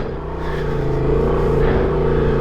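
A Honda Transalp 750 motorcycle rides off-road through soft sand, its engine droning loud and close with a steady, rising hum and no speech.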